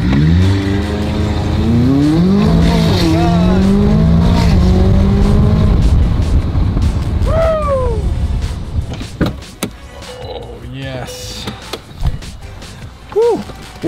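A loud McLaren P1 GTR engine revs and roars up through its gears, then the engine note drops away, leaving quieter rumbling and brief voices.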